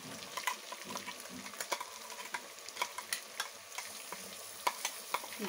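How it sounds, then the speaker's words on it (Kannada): Ground masala frying in a village-style chicken gravy, stirred with quick, repeated spoon scrapes over a quiet continuous sizzle, faint and close, without speech. "ಆ ಮಸಾಲೆನ ಇದಕ್ಕೆ ಹಾಕ್ಕೊಳ್ತೀವಿ."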